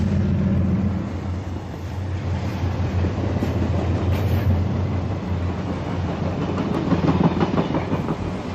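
An Amtrak San Diegan passenger train passes an Old Town Avenue crossing in San Diego, a loud, steady rumble with rhythmic clickety-clack of wheels on rail joints lasting throughout, with no voices.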